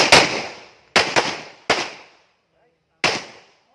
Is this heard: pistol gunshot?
yes